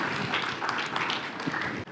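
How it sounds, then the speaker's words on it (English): A conference audience applauds after a talk on an AI processor: a brief, dense burst of many hands clapping at once, loud and continuous, then cut off abruptly at the end. "Applause."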